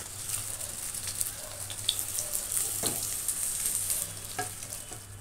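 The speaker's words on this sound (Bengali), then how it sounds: "তো দেখো কোপ্তাগুলো আমার ভাজা হয়ে গেছে, এবার আমি তুলে নেব।" Mutton kofta meatballs fry in oil with a soft, fairly quiet crackle and scattered small pops, sizzling steadily with no voices over it.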